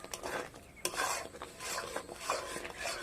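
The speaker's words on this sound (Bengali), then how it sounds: "সিমাইটা দিয়ে হালকা নাড়াচাড়া করে এটা আমি নামিয়ে নেব।" Vermicelli that was fried first, stirred into milk in a pan with a utensil scraping the pan, repeated scrapes and clinks at close range, no voices.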